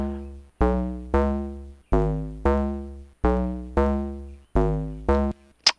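A synthesizer sequencer plays a repeating pattern of bright, sustained tones, eight evenly spaced notes with sharp attacks and decaying tails, loud and steady with no variation.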